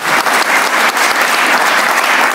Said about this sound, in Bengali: সবাই হাতে একটা তালি দেন না।